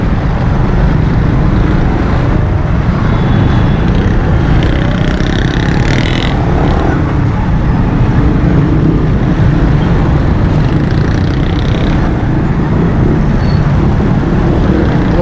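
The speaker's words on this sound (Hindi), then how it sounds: "काफ़ी रश है ट्रैफिक का।" Heavy road traffic on a busy Karachi street near Korangi Road roars continuously, a loud close wash of engines and motorcycles with passing vehicles and faint horns.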